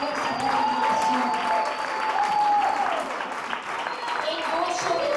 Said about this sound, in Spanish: si es para el Señor, tú puedes aplaudir con toda la fuerza de la adoración